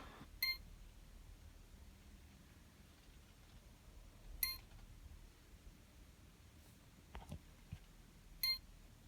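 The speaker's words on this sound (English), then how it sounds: "the device makes this little noise when it's finished" A handheld ECU programming device for an 03 Cobra beeps three or four times in short, clear electronic chirps spaced a few seconds apart over a quiet background hum, signalling the end of a download.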